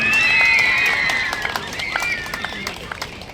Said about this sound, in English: Can we have a round of applause for St.